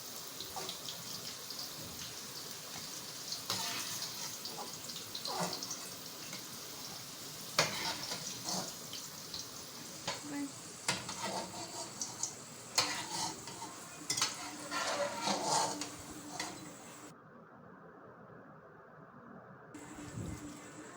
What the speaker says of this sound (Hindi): इनके बाहर ये जब फ्राई कलर आ जाएगा हल्का हल्का सा ब्राउन सा, तो हम इसको निकाल लेंगे ऑयल में से